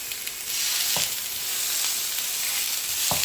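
Minced meat for a meat pie filling fries in a pan with a loud, steady, close sizzle, broken by a few soft knocks as it is stirred.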